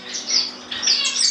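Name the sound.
small fast pet birds chirping in a bird room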